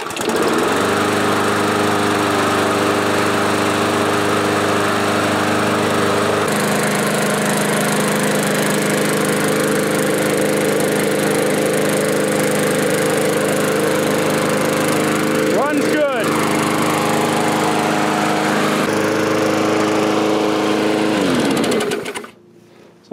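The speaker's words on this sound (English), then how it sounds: "It's gonna make a really nice lawnmower for somebody." A Bolens lawn mower engine with a cleaned carburetor and new carburetor gasket runs at a steady loud drone for about twenty seconds, its pitch shifting briefly before it cuts out at the end.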